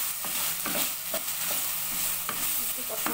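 Spice masala is stir-fried with small potatoes and goose meat in a pan, sizzling continuously while a spatula scrapes and knocks in repeated, uneven strokes.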